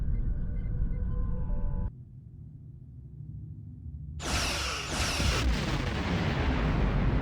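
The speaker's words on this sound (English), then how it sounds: "Target that ship, and fire all weapons!" Starship weapons fire in Star Trek Online, aimed at an Undine planet killer: a deep rumbling barrage, a sudden drop to a lower hum, then loud bright crackling blasts and bursts erupting in quick succession.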